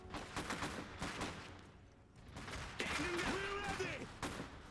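Gunfire crackles in the Iron Harvest strategy game as a fusillade of distant rapid shots. Someone talks over much of it, and a tonal whine joins midway.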